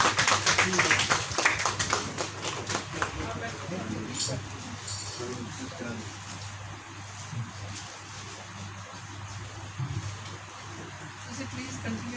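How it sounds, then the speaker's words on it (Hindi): At a book launch event, a crowd claps to welcome an arriving guest. Brisk, fairly loud applause opens the clip and then fades into softer scattered clapping under ongoing talk and room noise. "सारे तालियां नाल स्वागत करो उन्हों का"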